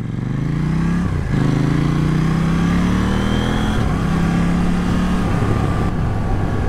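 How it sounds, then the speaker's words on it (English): A KTM Duke 790 motorcycle engine revs loudly and steadily up close, its pitch climbing and dipping across several throttle blips in a continuous, throaty roar with no talk. "I do like the sound of this bike. Listen to that."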